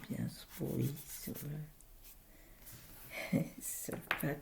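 Pencil or charcoal strokes scratch across paper in short, close rasping sweeps, with soft speech between them.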